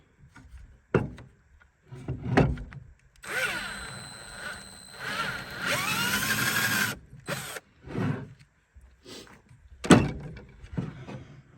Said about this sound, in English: So let's go ahead and drill a hole out.